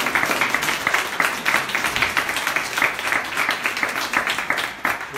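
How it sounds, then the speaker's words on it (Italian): A crowd applauds steadily, many hands clapping in a dense, even patter that holds for several seconds without pause. "Facciamo un applauso"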